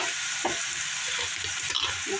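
Potatoes frying in a pan for a chicken pot casserole, a steady close sizzle with scattered crackles and soft stirring scrapes, continuous and loud with no talking.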